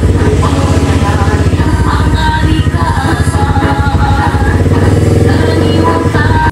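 A motorcycle engine runs up close with a fast, loud, rattling putter, holding steady without much change in speed.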